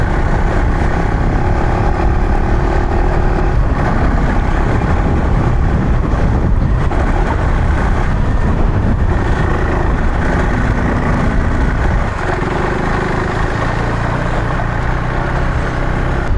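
A KTM 390 Adventure R motorcycle riding an off-road trail, its engine droning loud and steady alongside heavy wind rush at the microphone, the pitch shifting with gear changes toward the end, no voices.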